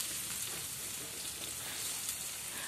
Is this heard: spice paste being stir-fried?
yes